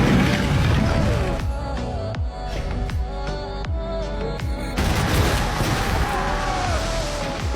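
A rapid series of sharp blasts and cracks, one after another, loud and close, with a heavy rumbling burst near the middle.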